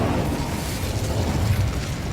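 Incendio fire spell blast in the Hogwarts Legacy video game, a steady roaring rumble of flame with low booming pops, loud and continuous for a couple of seconds with no voices.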